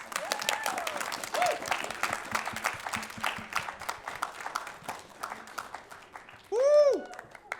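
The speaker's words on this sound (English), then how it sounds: "Please give a big round of applause for Autumn Reese." An audience applauds a poetry slam champion, with dense sustained clapping, some cheers, and a loud whoop near the end.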